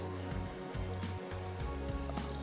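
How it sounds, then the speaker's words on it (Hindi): Minced meat (keema) frying in a pan, a soft, steady sizzle with a low hum beneath and faint, irregular stirring sounds, no voices. "कीमा हमने डाल दिया यहाँ पे, कीमे को अच्छे तरीके से भूनना है।"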